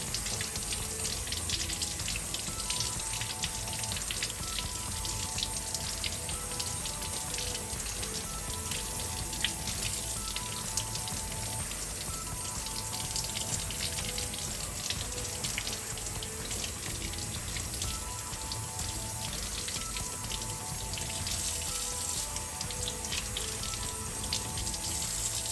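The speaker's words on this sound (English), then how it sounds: "So let's take a piece of the chum and give it a rinse" Running tap water pours steadily into a sink for a long stretch while a piece of chum salmon is rinsed beneath it, a constant even gush with no talk.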